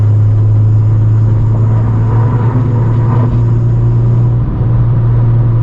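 A tuned 9th-generation Honda Civic Si engine pulls at half throttle in sixth gear, heard from inside the cabin as a loud, steady low drone with a constant hum and faint road rush.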